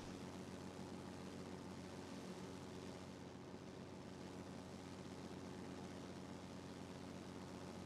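Messerschmitt Bf 109 G piston engine climbing steadily in World of Warplanes, a faint, even propeller drone with a constant low hum and no other sounds.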